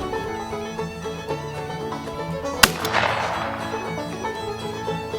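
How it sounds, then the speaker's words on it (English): A single sharp gunshot cracks midway through, loud and close, over steady background music with no voices. "Shoot the gun."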